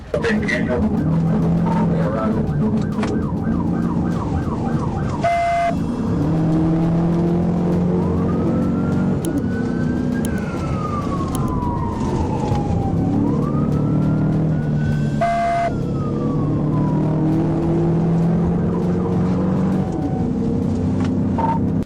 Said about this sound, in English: The fleeing vehicle recklessly weaved through heavy traffic, speeding dangerously and creating chaos along the way.